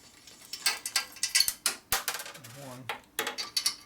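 Ratchet wrench clicking in short bursts while working on a 2001 Gilroy Indian Chief motorcycle being rebuilt as a race bike, close and fairly loud, with brief metallic clanks and a low hum between strokes.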